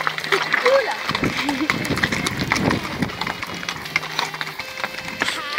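A horse gallops outdoors on a trail ride, its hooves clip-clopping in a steady stream of close thuds beneath almost constant talking from riders.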